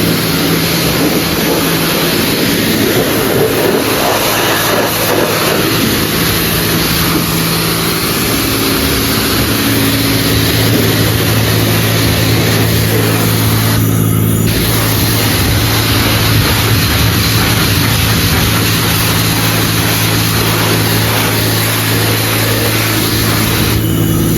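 A Dodge Challenger 392 drives with a loud, constant engine roar and road rumble heard from inside the cabin, with slight shifts in engine pitch and no talk.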